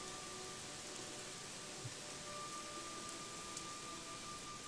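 Steady soft rainfall hiss with faint patter in the video game Gothic 3, constant and even throughout, no voices.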